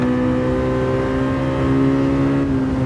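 Honda Civic SiR engine in the Gran Turismo 7 racing game, lap at Tsukuba Circuit, holding a steady high-pitched drone against the rev limiter for about three seconds, loud and continuous with no talk.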